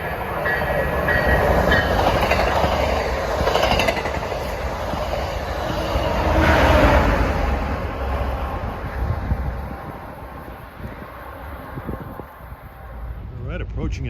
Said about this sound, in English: Approaching at 237 is MBTA train 819 from Boston to Wickford Junction, Rhode Island.